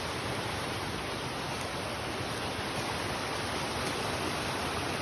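Long Creek in North Carolina flows steadily, a continuous broadband rush of water heard up close with no breaks and no voices.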